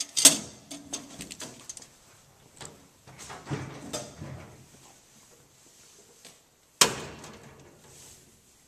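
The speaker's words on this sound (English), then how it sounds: "The door's going to swing that away." A 1949 candy vending machine's door swings open with sharp, close metallic clicks and clunks, one near the start and a louder one later, separated by quieter rattling handling noises.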